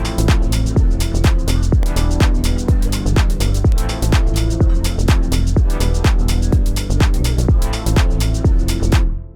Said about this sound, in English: I have this small beat idea with these synth chords and a bass line and some drums